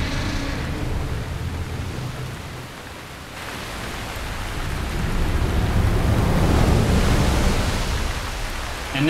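Heavy rain in a video game, a steady hiss of falling water that dips and then swells louder again with deep rumbling underneath, with no voices over it.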